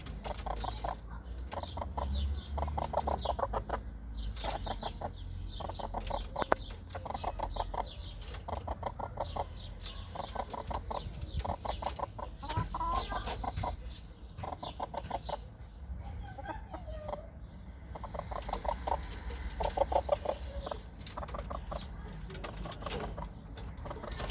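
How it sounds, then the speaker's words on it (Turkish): Hens cluck and coo in a repeated, rhythmic pattern close by in a coop, one hen about to lay an egg, with steady low background noise throughout. "Bakın sarı tavuğu görüyor musunuz?"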